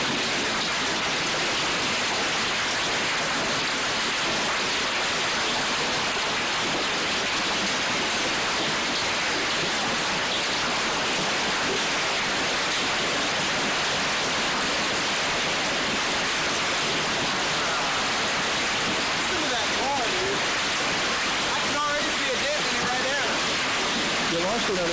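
Hail pelting down during a June storm around midday, a dense, continuous hiss of countless small impacts, loud and unbroken from start to finish.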